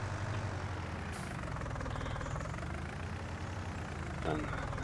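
A vintage Deutz 9005 tractor in Farming Simulator 19 drives along with a steady, continuous low engine drone and rumble, holding an even level throughout with no breaks.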